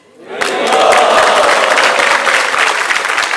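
An audience at a Sunday Feast lecture at ISKCON Dwarka, Delhi, bursts into loud, sustained applause that starts abruptly and holds steady as a dense wash of clapping.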